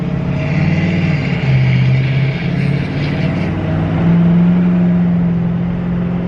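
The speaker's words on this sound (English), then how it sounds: "Try and get an exhaust clip." A Nissan S13 engine rumbles loudly through a newly fabricated exhaust, with the pitch rising and falling across several revs, no voices present.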